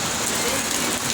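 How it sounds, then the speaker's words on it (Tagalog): Rain falls heavily in an outdoor roadside setting in the Philippines as a dense, continuous hiss of drops on surfaces, loud and close, with no break. "Abutan ako ng ulan eh."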